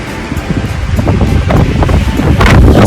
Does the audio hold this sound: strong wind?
yes